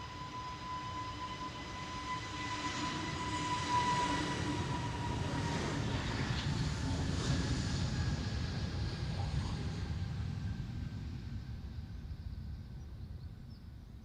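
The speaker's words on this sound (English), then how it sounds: "Alright, the EasyJet flight." An EasyJet airliner departs Amsterdam Schiphol on a windy day, its jet engines building into a steady broadband roar that swells and holds, then slowly eases as the aircraft moves away.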